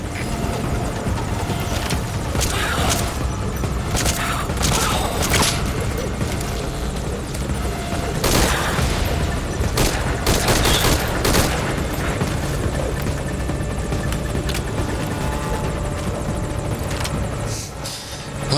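Helicopter flying in the Metal Gear Solid V: Ground Zeroes video game, a loud steady rotor roar throughout with bursts of gunfire and impacts over it and no talk.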